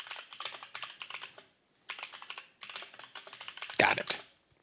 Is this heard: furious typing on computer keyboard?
yes